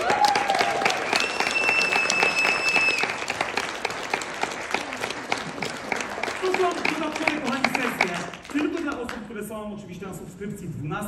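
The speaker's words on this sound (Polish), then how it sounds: "Brawa dla nich!" An audience at an educational event gives a round of loud applause that swells and continues, then thins out toward the end, with voices and a brief tonal sound mixed in partway through.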